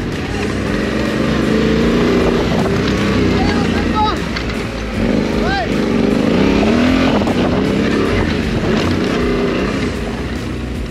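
Off-road trail motorcycle on a riding course, engine note rising and falling as the throttle is rolled back on gradually, fairly close and steady, with someone speaking over it.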